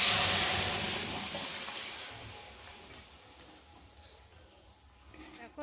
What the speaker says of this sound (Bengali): চলো, ডালটা এখন ঢেলে দিই।